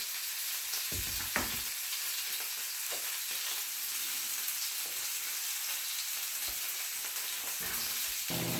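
Ribeye steak fries steadily in a hot pan with butter, a continuous broadband sizzle with a few louder pops and spatters, close and fairly loud, with no voices.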